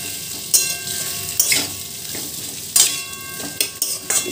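Pointed gourd and rice are stirred together in a hot pan, with several distinct spatula scrapes and clinks over a soft background sizzle, close and fairly loud.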